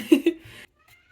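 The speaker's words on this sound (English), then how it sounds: "Please excuse my cat in the background." A cat gives two short, close meows followed by a softer trailing cry, then quiet.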